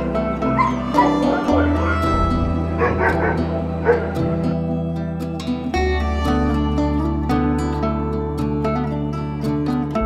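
Several dogs bark, yip and whimper at an animal rescue clinic in Bulgaria, a loud, busy mix of overlapping calls that runs steadily throughout, with people talking underneath.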